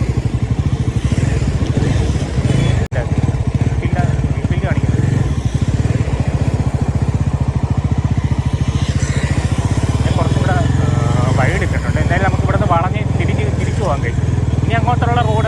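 A Bajaj Pulsar NS 400 motorcycle engine runs loud and close throughout during a ride, a steady throbbing rumble, with a person talking over it.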